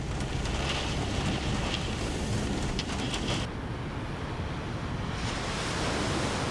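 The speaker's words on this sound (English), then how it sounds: "the waves striking coastal areas can have devastating consequences for people, property, and the environment" Ocean surf pounding a stormy coastline, a steady roaring wash of breaking waves with wind noise, loud and continuous, briefly easing in the middle before surging back.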